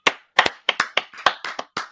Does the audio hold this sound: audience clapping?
yes